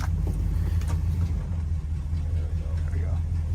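A classic muscle car with column gear shift driving on the road, deep low engine rumble steady throughout with a voice talking over it.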